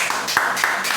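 A church congregation claps during a deliverance worship service, with a quick burst of sharp, rhythmic hand claps blending into a bright, reverberant patter.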